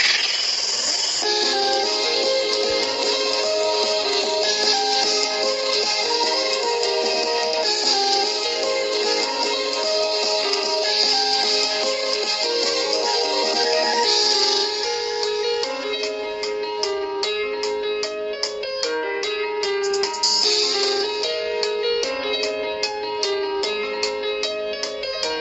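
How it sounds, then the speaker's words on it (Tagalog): Music plays through the dual built-in speakers of a Tecno Spark Go 1 phone, a steady, fairly loud stream of melody and rhythmic clicking beats that runs continuously with no talking over it. "Ito ang tunog ng speakers."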